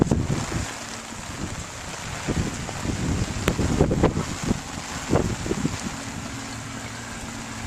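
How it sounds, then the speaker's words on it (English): Hard Hurricane Irene winds batter the microphone at a bay in Jersey City at high tide, a loud, continuous roar of gusts and buffeting with surging water underneath, no speech. "We're getting pounded with rain and just hard winds now."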